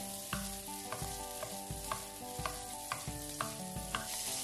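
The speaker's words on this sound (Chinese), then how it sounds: "再加入我们的虾，先煎香我们的虾" Shrimp frying in plenty of hot oil in a wok for Yangzhou fried rice, a close continuous sizzle broken by regular scraping knocks of a spatula, about two a second.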